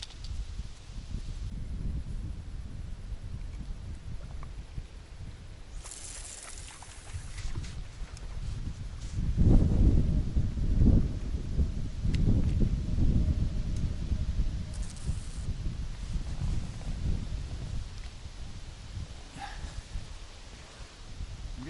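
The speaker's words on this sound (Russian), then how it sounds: "Ветрено сегодня, вообще штормит." Strong wind gusting outdoors on a stormy day while fishing with a bottom rig, a rough rumbling roar that swells and buffets the microphone in waves, with no talk.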